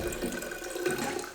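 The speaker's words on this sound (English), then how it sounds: "So you add more water" Water pours into a pot of rice for a Cuckoo pressure cooker, a short, close, continuous splashing gush.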